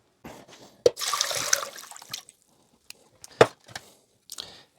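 Homemade lemon ginger soda mix poured through a sieve into a bowl, a short burst of splashing liquid followed by scattered drips, knocks and light handling noises, close and fairly quiet.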